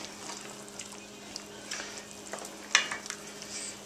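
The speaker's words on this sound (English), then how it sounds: "Let's give that a quick little stir." Turkey giblets simmering at a mild boil in a pot for Thanksgiving gravy, given a quick stir: soft bubbling and scraping under a low hum, with a brief sharp clink of the utensil against the pot.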